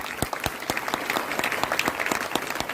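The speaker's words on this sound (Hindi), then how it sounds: "उनके लिए जोरदार तालियां।" Loud, dense applause from a DXN business event audience, continuous clapping with sharp individual claps standing out, lasting a few seconds.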